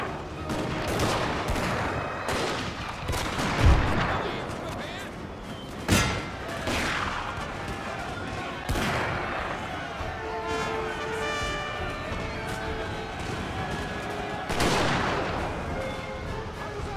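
Cannons fire canister shot in a battle video game: repeated heavy booming volleys and crackling musket-like fusillades roll on continuously, some blasts sharp and close, others distant, with game voices talking over the din.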